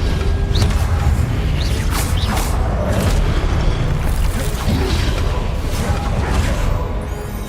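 Confringo and Incendio spells in Hogwarts Legacy burst in a dense, loud run of fiery blasts and whooshes, with several sharp hits layered over a continuous rumbling roar that barely lets up.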